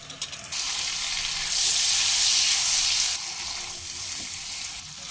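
Ginger, chili, Kashmiri chili powder and turmeric mixed with a little water sizzle and fry in a pan, a steady close hiss that swells briefly in the middle before settling, with no talk.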